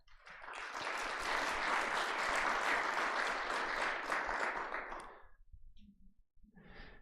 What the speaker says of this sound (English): And if you like choir, please, now would be the time to clap for them as well.